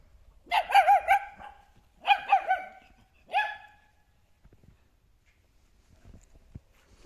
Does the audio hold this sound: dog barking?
yes